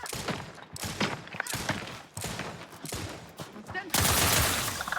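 Bursts of heavy gunfire ring out in combat in The Outer Worlds 2, a sci-fi video game, repeated volleys close and loud over several seconds, ending in a sustained roar of fire.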